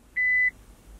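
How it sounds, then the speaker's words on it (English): One short, clear electronic beep from a car's warning system sounds alone in a quiet cabin. "Why is that beeping noise?"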